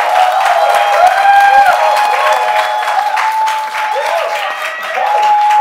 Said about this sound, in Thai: ขอเสียงปรบมือให้กับซิวครับ